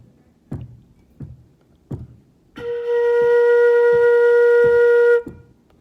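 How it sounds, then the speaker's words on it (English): A sustained wind tone holds steady for about three seconds, set between soft rhythmic taps counting a slow beat. "if I was to play the flute, it would sound like this"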